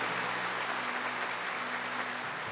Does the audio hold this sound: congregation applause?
yes